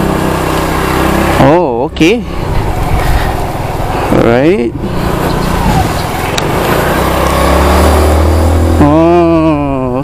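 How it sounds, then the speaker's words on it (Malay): An Aveta Nova 125 motorcycle engine is started and blipped in short revs that rise and fall, settling into a low idle before a final rev, close by with someone talking over it. "So jom kita start engine motor."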